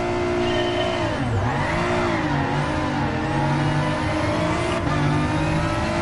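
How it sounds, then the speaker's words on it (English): A race car engine in Gran Turismo Sport revs continuously while waiting on the grid before the start, a loud steady drone with rising and falling pitch sweeps and no talking. "just revving the engine as I'm checking my phone, as you normally do before a race."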